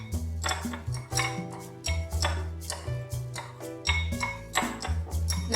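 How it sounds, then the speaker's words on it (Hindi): A spoon clinks repeatedly against a bowl while black pepper, ginger-garlic paste and red chilli powder are mixed for Lahori fish fry, giving irregular close metallic ticks and taps with no talk. "इनको मैं अच्छी तरह मिक्स कर लूँगा।"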